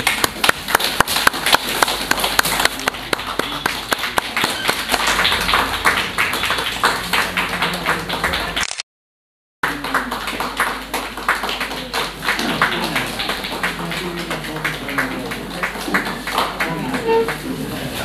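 An audience applauding to welcome a book launch in a hall: sustained, dense clapping from many hands. It breaks off for about a second of silence midway, then the clapping continues until the end.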